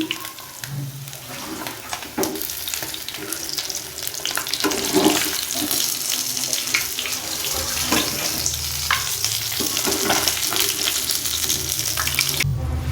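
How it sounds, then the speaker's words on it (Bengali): Rohu fish heads fry in a pan with a dense, close sizzle and crackle, mixed with watery splashing and scattered stirring or clattering, steady throughout without talk. "এইবার এই মাছের মাথাগুলো রয়েছে, মাছের মাথাগুলো ভেজে নিচ্ছি।"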